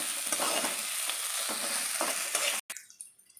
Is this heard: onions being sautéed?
yes